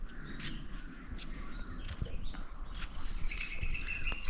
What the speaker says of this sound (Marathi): असा किलबिलाट पक्ष्यांचा ऐकायला भेटतो आमच्या इथे सकाळी.